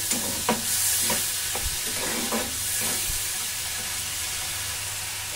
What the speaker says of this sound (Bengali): এটা খুব সামান্য একটু নাড়িয়ে নেব।